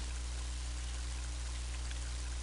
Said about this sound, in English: Mighty heavy rain, isn't it?